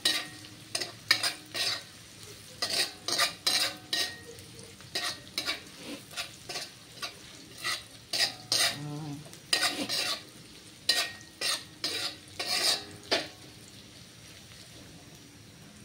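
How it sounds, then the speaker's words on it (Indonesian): Garlic, shallots, chili and ginger are stir-fried in a pan in a home kitchen. A steady sizzle runs under repeated rhythmic scrapes and clanks of a spatula stirring, close and moderately loud. "Kacau-kacau sampai dia naik bau."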